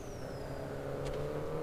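Race cars from Grid Autosport's Mini Cup party mode drone steadily in the background, a continuous mid-range engine hum with no distinct passes.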